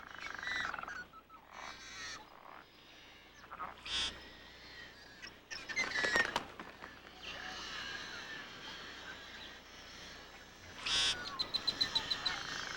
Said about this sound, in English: The safety of the sedges throughout the marsh attracts the yellow-headed blackbird.